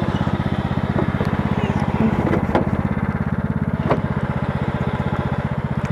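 A riding tractor mower's engine chugs steadily and close while the machine backs up, its even, rapid pulsing holding through the whole stretch with a few faint knocks on top.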